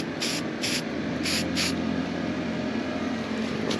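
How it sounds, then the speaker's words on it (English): An aerosol spray can hisses in four short bursts into a lid over a low steady background hum while touch-up paint is prepared for Jeep fenders. "spray a little into here"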